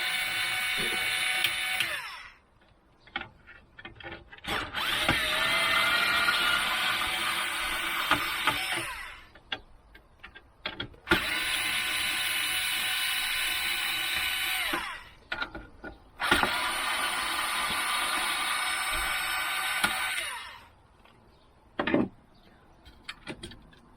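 An electric screwdriver backs out the four CPU heatsink screws of a Dell Optiplex 3020 desktop, with several long whirring bursts separated by short pauses and small clicks, close up.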